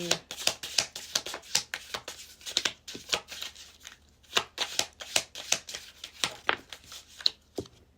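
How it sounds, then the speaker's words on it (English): Message cards shuffled by hand at close range, a continuous run of quick papery flicks and slaps in an uneven rhythm lasting several seconds, clear and with no speech. "I'm going to get those message cards too"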